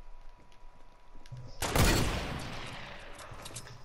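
A loud gunshot blast in the video game Fortnite, a single booming report with a long fading tail after quieter rustling game sounds.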